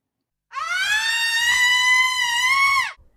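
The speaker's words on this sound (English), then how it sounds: "It's a sound effect from a sound effect record. It's supposed to be a woman screaming" A sound-effect record of a woman screaming, so bright and sustained it resembles a trumpet: one long, loud, harmonic-rich wail held steady for over two seconds before it cuts off, with no voices over it.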